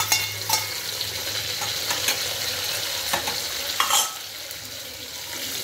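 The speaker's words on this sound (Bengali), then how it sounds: "পেঁয়াজ টমেটোটা ভালো করে একটু লাল লাল করে ভেজে নিতে হবে।" Onion and tomato frying in a pan for veg pulao, a loud continuous hissing sizzle with occasional sharp scrapes of a spatula stirring, close and unbroken throughout.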